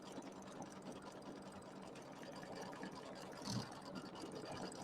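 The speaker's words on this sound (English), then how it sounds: "I'm going to sew my stabilizer in here" An embroidery machine stitches a quilt border with a steady, dense mechanical whir and rapid needle chatter. The sound runs continuously at moderate loudness with a small bump near the end and no talking.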